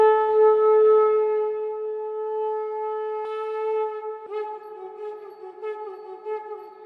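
A conch shell blown by a musician in a high-ceilinged museum hall during a special event: a steady, horn-like tone held for about four seconds, then a second blast that rings and echoes off the room.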